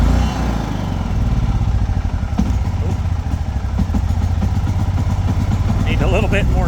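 A Champion 8500 watt inverter generator starts by push button and runs with a rough, clattering engine rumble, loud and close, while a person talks over it.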